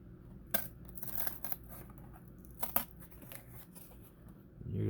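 Scissors snip through cardboard in a few quick crunchy cuts, close and fairly quiet, with rustling of the board between them.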